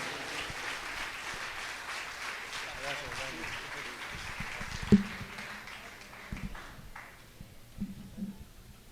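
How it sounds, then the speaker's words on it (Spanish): A church congregation applauds in a soft, sustained patter that fades toward the end, with a voice speaking over it. "Vamos a recibir la palabra del Señor con un fuerte aplauso a nuestro Dios"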